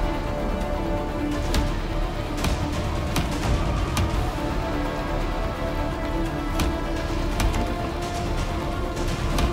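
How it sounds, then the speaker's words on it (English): Storm rain in a survival video game, heard from inside a shelter: a steady, dense hiss of rain drumming on a surface, with scattered sharper drop ticks and no voices. "And I can get warm from the rain."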